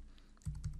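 Soft computer keyboard typing, a short burst of several quick keystrokes close to the microphone, quiet and without talk.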